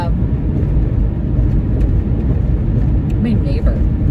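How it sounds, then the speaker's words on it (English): A car passes along a road as a steady, close rumble of driving, with a person talking over the continuous engine and road noise. "That's my neighbor in the car in front of me. He's barreling down the road"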